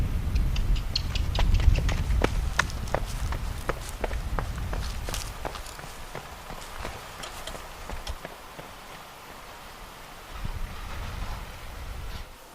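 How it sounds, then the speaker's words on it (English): A horse being checked for lameness trots off on a hard surface, its regular clip-clop hoofbeats starting close and loud, then fading steadily as it moves away. "and then we trot the horse off."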